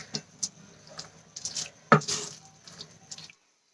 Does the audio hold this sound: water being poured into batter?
yes